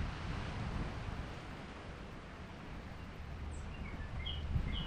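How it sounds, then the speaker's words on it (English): Ocean waves wash onto the shore in a soft, continuous rushing surge with a little wind, heard at a distance and fairly quiet, with faint bird chirps near the end. "Listening to maybe the waves in this yoga video"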